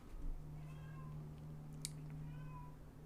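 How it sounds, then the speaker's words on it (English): A cat meows repeatedly outside, faint and distant, several drawn-out cries over a steady low hum. "Do you hear the cat, by the way?"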